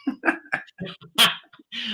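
Small Chihuahua dog making short whimpering yelps and whines in a burst of quick, close sounds, with brief pauses between cries.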